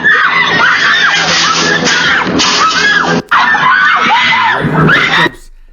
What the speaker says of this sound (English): And you can hear the women screaming, ah!